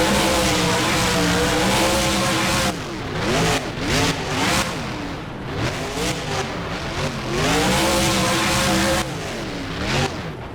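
The Gravedigger monster truck spins a donut, its engine roaring loud and close with repeated rising and falling revs over a constant rumbling drone.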